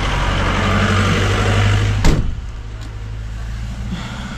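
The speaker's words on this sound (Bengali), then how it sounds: "তবে চলো গাড়িতে উঠি যাই" A car door slams shut with one sharp, loud thud while a vehicle's engine idles steadily, heard outdoors in light rain at Lachung, North Sikkim; the hum continues more muffled afterward.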